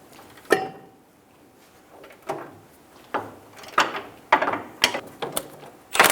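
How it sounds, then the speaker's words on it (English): A ratchet with a 27mm socket works loose a rearward upper control arm bolt on a 2007-2017 Ford Expedition, giving several bursts of close, loud clicking and clacking separated by short pauses, with no talk. "Using a 27mm socket, we're going to remove the bolt."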